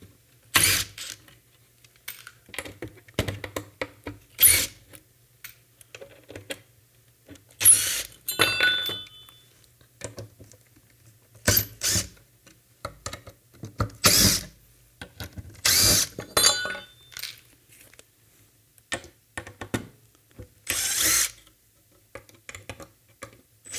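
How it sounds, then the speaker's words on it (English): A power drill unscrews screws from a vehicle bumper in repeated short whirring bursts, each a second or so long, spaced a few seconds apart with clicks and handling noise between them, close and fairly loud. "now we can go ahead and unscrew all of these screws"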